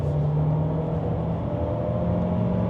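An Omoda 5 SUV's 1.6-litre turbocharged engine hums at a steady drone throughout, with a constant low tone and road noise from inside the cabin.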